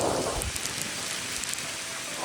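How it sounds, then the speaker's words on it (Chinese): Heavy rain pours down in a fierce windstorm over farm fields, a dense continuous roar of water close by with gusty surges; no speech. "那边已经下大雨过来了，哦，下大雨喽！"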